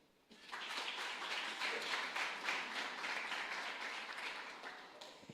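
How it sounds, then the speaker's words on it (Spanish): A church congregation breaks into applause after a quiet start, many hands clapping steadily at some distance for several seconds before tapering off. "denle un aplauso al Señor."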